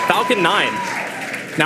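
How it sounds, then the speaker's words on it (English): Crowd cheering and applause after a Falcon 9 first-stage booster lands on its 16th flight, during the Starlink Group 10-12 mission, carrying on as a steady wash beneath a voice talking. "you can hear the cheering behind me"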